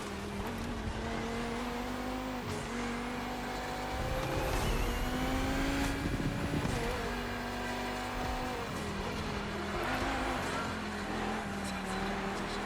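Race car engine in The Crew Motorfest during a three-lap race, a steady droning engine whine with shifting pitch, rising and falling through gear changes, with brief tire squeal.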